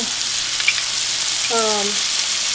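Mushrooms frying in a hot pan for chicken marsala, giving a close, steady sizzle throughout with a brief tonal squeak near the middle and no speech.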